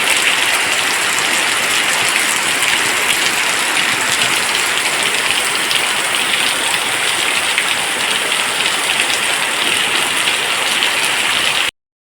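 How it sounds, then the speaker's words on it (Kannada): Heavy rain pours down steadily in a forest setting, a dense, loud, unbroken hiss of drops hitting surfaces all around, with no voices. "ಮಳೆ ಬರಲಿಕ್ಕೆ ಶುರುವಾಯಿತು ಜೋರು"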